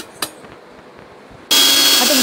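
A mixer jar starts grinding cucumber (dosakaya) chutney partway through, jumping from near silence to a loud, steady whirring roar that holds to the end.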